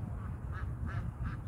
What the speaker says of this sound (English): Dang little duck.